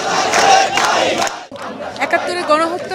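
A large crowd of protesters at the Shahbag sit-in chanting slogans in unison, loud and close, with rhythmic shouted phrases that break briefly midway, then resume as layered voices.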